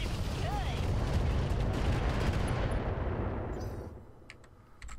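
Heavy weapons fire in the BattleTech RogueTech mech combat game, a dense roar of booming shots and explosions that fades out toward the end.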